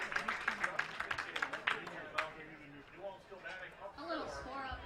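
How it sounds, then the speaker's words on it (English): Elrosa fans applauding at a Minnesota Class C state baseball tournament game, scattered crowd clapping for the first two seconds under a commentator's voice, which carries on alone afterward. "Gets a nice round of applause from the Elrosa fans."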